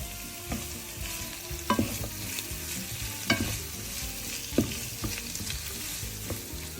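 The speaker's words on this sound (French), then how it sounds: "on ajoute les tomates cerises." Cherry tomatoes sizzling and frying in a pan with peppers and onion, a steady close crackle punctuated by occasional stirring clicks and scrapes, with no talking.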